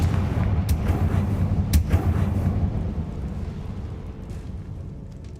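The Confringo fire spell exploding in a video game, a loud deep boom with rumbling blast and crackle that rolls on and slowly fades over several seconds, without speech.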